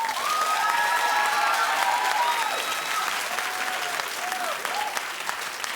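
A studio audience at a daytime talk show claps steadily and loudly throughout, dense continuous applause with a few whistles and cheers rising above it, tapering slightly near the end.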